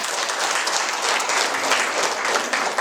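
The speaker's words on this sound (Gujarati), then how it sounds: "તાળીઓ તો પાડો." An audience at a village women's group meeting gives steady, dense applause. Many hands clap together in an even roar that lasts the whole few seconds, with no pauses.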